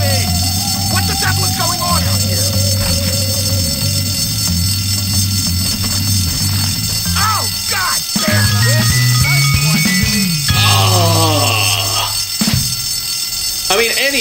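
A school fire alarm ringing in the video game Bully, a loud continuous electronic tone that runs through the clip alongside game music, character voices and shouting.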